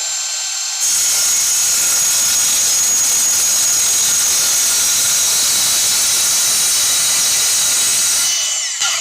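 An AEG 18V cordless plunge saw makes its first cut, a loud, steady high-pitched whine and cutting hiss running unbroken for about eight seconds after a brief start, then dropping away at the end, with no talking.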